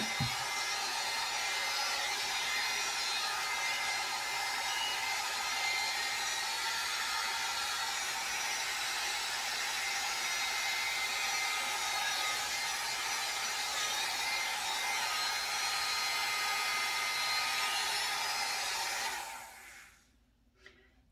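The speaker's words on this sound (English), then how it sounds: "If you have a hair dryer with a cool shot on it" A hair dryer blows steadily with a loud, even rush of air for about nineteen seconds while styling teased hair, then cuts off and the noise dies away.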